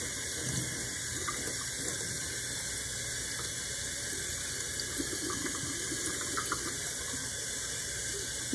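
Tap water runs steadily into a sink while tie-dyed fabric is rinsed under it, a continuous close rushing splash with faint handling sounds.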